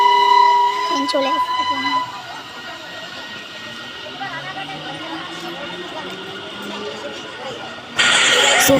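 Train pulling into a station on a rainy day, a loud whistle-like horn tone at the start, then a long rumble of rolling wagons and faint rising tones, ending in a sudden burst of louder hiss and noise.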